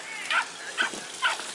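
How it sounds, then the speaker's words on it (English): Several dogs bark at a campground on the Chesapeake Bay, three separate bursts spaced about half a second apart, moderately close against a quiet background. "There's lots of dogs barking."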